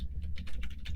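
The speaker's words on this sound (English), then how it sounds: "I am typing them up real quick." Rapid typing on a computer keyboard, a close, busy patter of key clicks with no talking.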